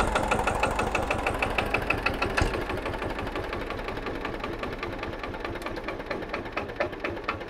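An old tractor engine with a massive flywheel chugging close by, a steady fast knocking beat that runs throughout at an even loudness, with no talking.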